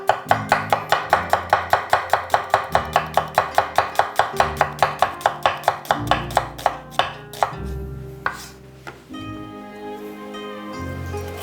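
A knife slices an onion thin on a board, about twenty crisp, evenly spaced chops close up over several seconds. Quieter scraping and handling follow, with no talk.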